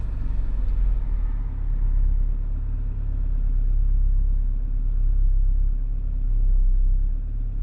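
Toyota Camry about 35 years old with a 3S-FE engine running on 5W30 conventional oil, settling into a steady, low idle with a gently rising and falling rumble, close and alone.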